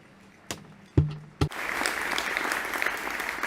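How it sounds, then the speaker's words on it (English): At the Hispano Suiza Carmen Sagrera reveal event, a few sharp knocks are followed by an audience breaking into sustained, fairly soft applause. "A round of applause."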